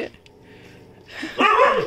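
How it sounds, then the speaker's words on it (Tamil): A 45-day-old Chippiparai puppy gives a short, sharp yapping bark close by. It follows a quiet stretch with faint background noise and a person speaking softly. "எப்படி குலைக்கிறதுன்னு பாருங்களேன்"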